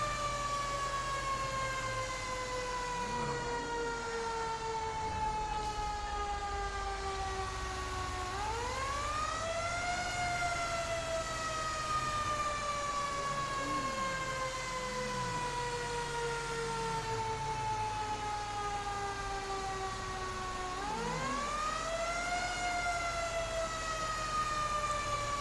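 A Blaine County Fire Department engine in GTA 5 runs its siren while responding to a call, a loud, continuous wail that slowly falls and then sharply rises again over a low engine rumble, with a horn-like blast repeating underneath.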